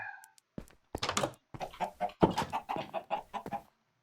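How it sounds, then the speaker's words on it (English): Minecraft chickens cluck in a quick series of short, choppy bursts, fairly close and clear, with a brief higher call at the start. "I can check on the chickens"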